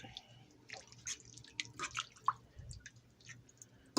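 Broth poured over two pounds of turkey and gravy in a baking pan gives soft, scattered wet drips and splashes, close and fairly quiet, with no talking.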